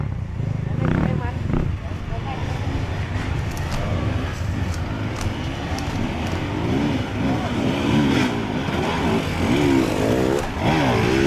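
Big motorcycle engine rumbling along a road during a trail ride near Ungaran, a loud, steady, close drone that rises and falls with throttle and wind buffeting, with someone talking over it.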